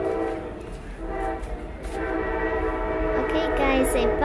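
A train rumbles past outdoors near a small animal enclosure with iguanas, turtles and a parrot, its horn sounding in steady sustained tones over the rolling noise.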